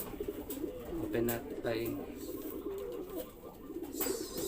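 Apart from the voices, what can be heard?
Taiwan pigeons cooing in a loft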